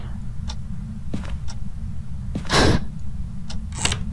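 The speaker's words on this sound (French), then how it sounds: "Arrêtez de jouer avec cette porte." Door creaking and moving in the horror video game Phasmophobia, a few short thumps and scrapes with one louder sweeping creak in the middle over a steady low hum.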